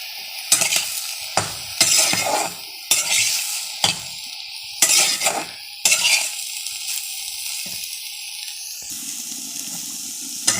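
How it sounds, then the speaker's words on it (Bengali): Malabar spinach and prawns stir-fry in a pan, with a spatula scraping and clattering in repeated strokes over a close, continuous sizzle that settles into a quieter hiss toward the end. "এদিকে রান্না হচ্ছে পুঁই শাক চিংড়ি মাছ দিয়ে রান্না হচ্ছে।"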